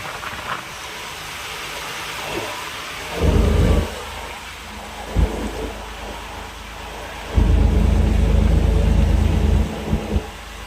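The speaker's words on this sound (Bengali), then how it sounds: "এখন ভারী বৃষ্টি হচ্ছে" Heavy rain pours steadily near a river launch ghat, with deep rumbling thunder swelling in several low rolls over the constant hiss.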